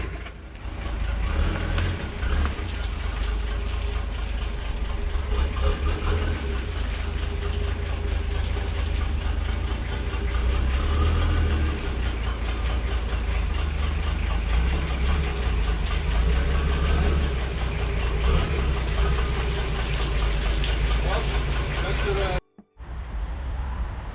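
A Nissan Patrol Y60 engine, freshly restored, runs steadily near the microphone with a continuous low rumble and throb, broken only by a brief cutout near the end.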